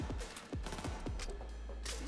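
Muffled, distant volleys of gunfire crackle outside in the video game Cyberpunk 2077, a faint, rapid series of repeated shots heard from a distance.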